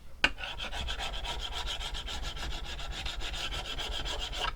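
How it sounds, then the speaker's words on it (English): A chisel scrapes coating off a Bowie knife blade in a quick, even series of rasping strokes, close and steady, following a sharp initial contact, with no voices. "Take a chisel to it and you can see that's coming off nicely."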